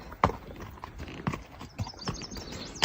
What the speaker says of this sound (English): Ponies are everywhere here.